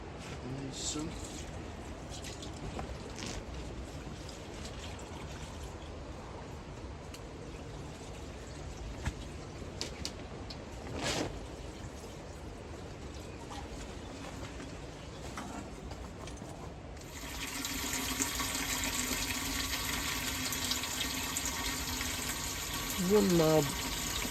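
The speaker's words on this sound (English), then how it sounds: "I'll just tip them into ones that are empty rather than wasting the water." Water tipped out of plant dishes into empty ones at an allotment, a soft splashing pour near the end after a stretch of quiet outdoor ambience with birds.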